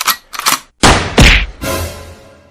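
A gunshot in a staged Hindi comedy skit about an India–Pakistan war: sharp loud bangs with a sudden broadband burst, one shot ringing into a decaying tail, between short bursts of other noise.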